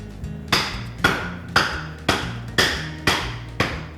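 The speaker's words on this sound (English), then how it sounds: "we'll start by cracking open the coconut" A whole coconut is struck hard about seven times at an even pace, each sharp close crack ringing briefly before the next blow.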